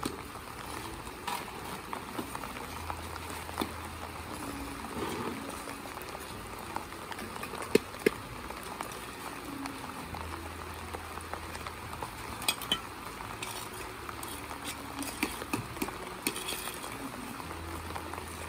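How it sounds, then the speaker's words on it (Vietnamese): Heavy rain pours steadily over an outdoor house-building site, a dense, continuous hiss with scattered louder drips and patters throughout, no voices. "mưa khá là to này, các bác chắc nghỉ thôi"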